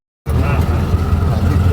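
An auto-rickshaw engine abruptly cuts in and keeps up a close, steady, low putter for the rest of the moment, with voices around it.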